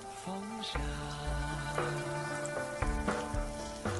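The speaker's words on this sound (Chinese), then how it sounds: "继续保持小火慢煎， 煎至2面金黄" Steady low sizzling of food pan-frying over low heat until golden on both sides, with soft tonal hums and a few light clinks; no talking.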